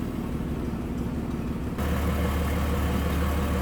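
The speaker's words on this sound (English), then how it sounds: "how smooth that inline 6 runs" A 1946 Plymouth Special De Luxe inline-six engine idles smoothly and steadily up close, a low even rumble that grows slightly louder and fuller partway through.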